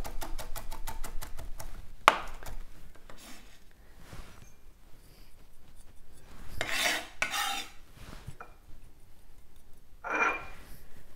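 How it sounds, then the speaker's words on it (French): A knife chops fresh rosemary on a cutting board, starting with a quick run of evenly spaced close taps, then irregular rasping scrapes and bursts of chopping. No one talks. "couper grossièrement le romarin"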